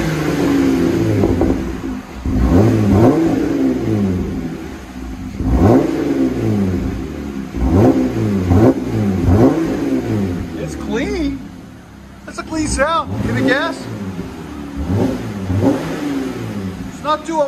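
Jeep Trackhawk V8 fitted with a Borla muffler, revved repeatedly in close, loud bursts that rise and fall in a steady rhythm, with people talking over and between the revs.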